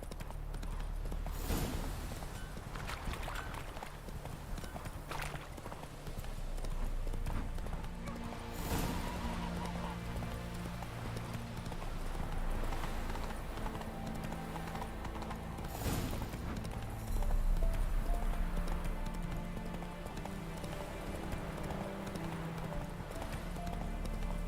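Roach, a horse in The Witcher 3 video game, gallops with continuous rhythmic hoofbeats in the foreground, broken by a few sharp louder hits, under game music and ambience.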